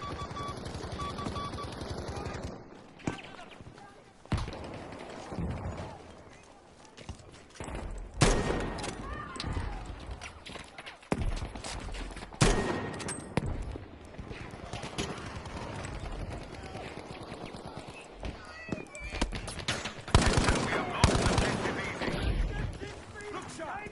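Game battle in Battlefield V with bursts of machine gun fire and scattered gunshots over a continuous noisy din of combat, loud and dense throughout, with a voice talking at points.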